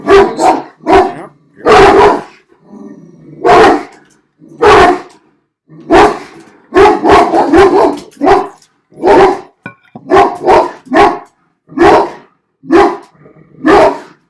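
Household dog barking at deliveries during the busy Christmas season, loud repeated barks in irregular bursts throughout, close to the listener with short gaps between.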